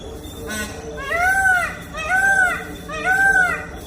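A peacock perched on a neighbouring terrace in Kerala gives three loud, nasal, honking calls in a regular rhythm, each a rising-then-falling wail, over quiet background noise.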